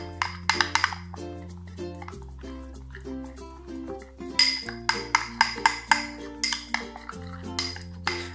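A spoon mixes aloe vera gel face paste in a small bowl, making quick, light clinks and scrapes against the bowl in an uneven rhythm, close and clear.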